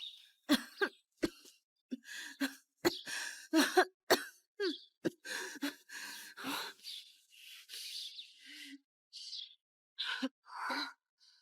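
A series of close, harsh coughs and throat clearings, broken by short gasps and breaths.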